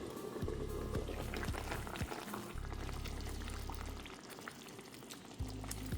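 Potatoes simmering in a pot of water, a soft, steady bubbling close by with occasional faint pops and a brief pouring surge, heard alone without speech.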